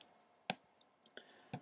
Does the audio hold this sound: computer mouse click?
yes